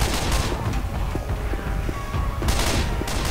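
Rapid bursts of gunfire from the zombie shooter game Left 4 Dead 2, loud and continuous, with dense overlapping shots throughout and sharper volleys near the end.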